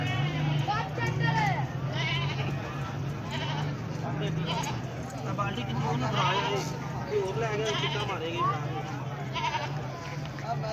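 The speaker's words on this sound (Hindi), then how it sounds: "ये कुछ तो बकरे हैं और बकरियां भी हैं मिक्स अप।" Goats bleat repeatedly at a goat market in Khudian Khas, Kasur, with several animals calling at close range over steady crowd babble while someone talks.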